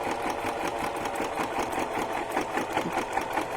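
A sewing machine stitches through a cardboard junk journal cover, a close, loud, rapid rhythmic chatter of the needle punching through the thick material without pause.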